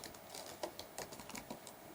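Someone types Python code on a computer keyboard, keys clicking faintly and unevenly in small scattered taps.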